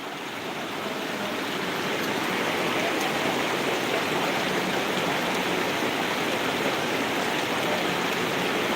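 Heavy rain pours down in a dense, constant roar, loud and close, with no letup and no voices.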